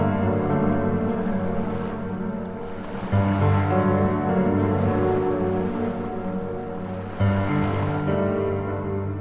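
Ocean waves roll onto a sea beach, a continuous loud wash of surf with swells surging around every few seconds, alone without voices.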